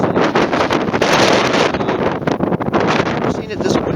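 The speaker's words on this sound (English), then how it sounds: "It's just been windy constantly all night long." Strong wind blasting across a Grand Canyon campsite at night, a loud, constant roar buffeting the microphone with gusty surges throughout, no talk over it.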